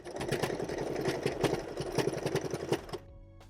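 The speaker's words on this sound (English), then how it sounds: "I'm gonna lay it on top, remove any pins that need to be removed, and go ahead and sew." A sewing machine stitches a ruffle tote bag, a close, steady rapid run of needle strokes that carries evenly and then stops abruptly near the end.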